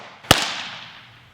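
A baseball lands in a Pro DJ2 infield glove with a single sharp, loud pop and a short ringing decay. There is no talking.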